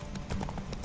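Horse hooves clip-clop at a quick, regular gallop in The Witcher 3 during a race on an Ophiri mare, steady and close against a low game backdrop.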